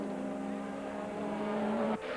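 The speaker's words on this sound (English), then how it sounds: "The Nissan coming to the pits." A Nissan GTP prototype race car in the IMSA Sebring 12-hour race drives at speed, a loud, steady high engine tone that climbs slightly before cutting off abruptly near the end, heard alone with no talk.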